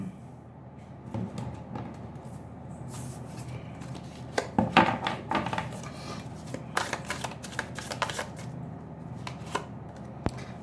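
Tarot cards are shuffled and drawn two at a time during a reading, making soft papery riffles, slides and light taps that come in irregular bursts close by, with no talk.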